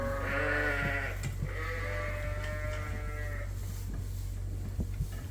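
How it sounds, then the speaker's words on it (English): Lambs bleat repeatedly and loudly at close range as they crowd in toward hay, with overlapping calls over a steady low hum, then quieter shuffling. "The lambs are piling up now in a rush to get that hay."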